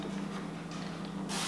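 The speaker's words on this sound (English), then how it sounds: "we're just gonna give a light spritz with olive oil in a Pam container" Olive oil spritzed from a Pam spray container onto pita bread, a soft continuous misting hiss with a brief louder burst near the end, close and alone.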